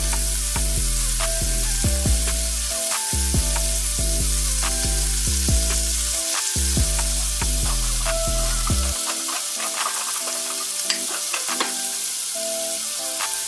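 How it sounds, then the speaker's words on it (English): Shrimp frying in a pan of bacon grease over medium-high heat, giving a steady, loud sizzle with occasional stirring and scraping throughout. "we're going to use that same bacon grease, you know what I mean, that delicious flavor. That's what we're going to fry our shrimp in"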